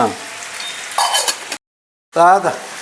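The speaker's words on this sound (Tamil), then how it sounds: "இப்போ அப்படியே கிண்டி விடுங்க" Pumpkin and cowpea (karamani) curry is stirred in a pan, a close scraping, sizzling mix in short bursts that breaks into silence before a brief final scrape.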